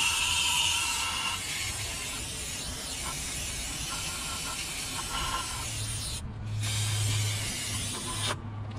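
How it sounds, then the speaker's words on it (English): Pressurized spray washing out the ports and barrel of a hydraulic cylinder from a Genie S-40 boom lift during a rebuild, a loud continuous hissing jet with brief pauses near the end. "Spraying the barrel out real good."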